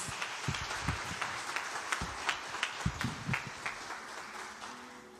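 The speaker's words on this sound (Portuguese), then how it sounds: "Vamos receber essa mulher de Deus com palmas, com honras, em nome de Jesus." Scattered, fairly faint applause rises from a church congregation greeting a guest speaker, with distinct individual claps standing out unevenly and thinning toward the end.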